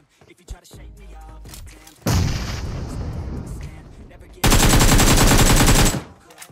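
Loud bursts of automatic gunfire ring out in the mobile shooter BGMI, starting with scattered shots before two long, dense volleys at close range.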